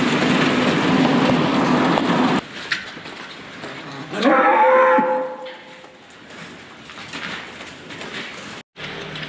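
Cattle on a farm lot, with a clear drawn-out moo from a cow or bull rising mid-way over steady outdoor background noise, followed by quieter ambient sound and no talk.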